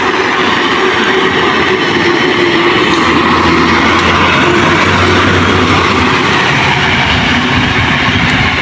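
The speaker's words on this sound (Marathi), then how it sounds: "इथं वडगाव गाडी आली आहे" A train pulling in at Vadgaon, a village in Khed taluka of Konkan, with rain falling: a loud, steady low engine rumble under a broad wash of noise that lasts the whole time, and no voices.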